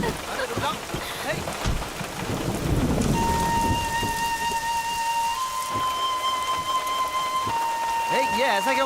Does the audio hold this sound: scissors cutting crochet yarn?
no